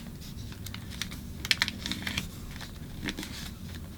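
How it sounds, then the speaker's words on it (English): Paper being folded and creased into an origami dragon, producing quiet close crinkles and a few sharper crisp taps of pressing, with no talking. "fold it diagonally to the center line and crease it in"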